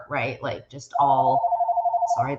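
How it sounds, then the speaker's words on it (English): A telephone rings with a steady sustained electronic tone, loud and close, cutting in right after a short burst of conversational speech. "that's my phone"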